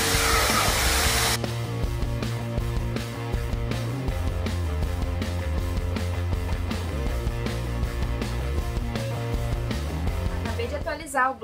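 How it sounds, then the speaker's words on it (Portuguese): A vacuum cleaner cleans a house, giving a loud, continuous motor whine with layered steady tones that runs unbroken for the whole stretch, then cuts off abruptly at the end. "Eu vou começar aqui pela área e vou aspirar, ó."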